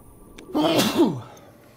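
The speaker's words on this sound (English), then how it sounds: "Hold on a second, I gotta sneeze." A single sharp sneeze bursts out close by, with a quick breathy intake leading into it, over faint background hiss.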